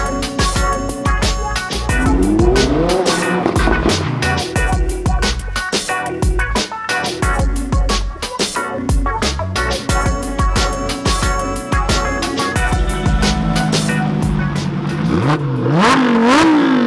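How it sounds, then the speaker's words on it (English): Loud cars, including supercars, rev and accelerate nearby as they arrive at a car meet, rising and falling over a continuous roar with clattering mechanical noise throughout. "Cars are arriving left, right and centre."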